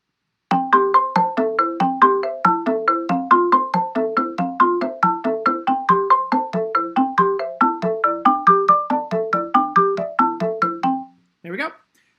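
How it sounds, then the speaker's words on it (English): A Zimbabwean-style song programmed in Chrome Music Lab Song Maker, bright synthetic plucked notes in a fast, even interlocking pattern that runs steadily for about eleven seconds before a brief closing blip. "And that is how you write a Zimbabwean song with Songmaker."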